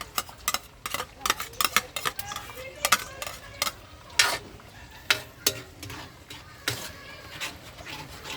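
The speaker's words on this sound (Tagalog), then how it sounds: "So habang naluluso pa yung ating butter, gisa na natin yung ating sibuyas." Onions sautéed in half-melted butter in a giant cooking pot, heard as sharp spoon clicks and scrapes in an uneven rhythm over a low, soft sizzle, all close by.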